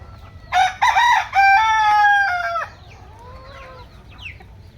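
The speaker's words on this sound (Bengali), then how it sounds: "অনেক সুন্দর একটা বিশাল সাইজের ফার্মি কিং মোরগ দেখুন" A large farm king rooster lets out one loud, close crow in stepped bursts that stretch into a long held note, then trails off. Fainter calls from other birds on the farm follow, with no talking.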